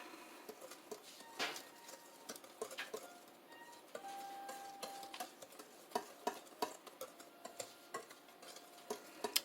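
Chocolate chunk cookie dough ingredients are mixed in a bowl, giving quiet, close, irregular ticking and tapping of a utensil against the sides in quick uneven bursts, with no talking.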